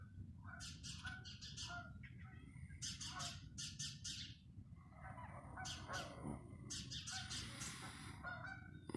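Outdoor birds calling during a bird hunt, with repeated honking, squawking bursts in clusters over a low rumbling background of wind or movement.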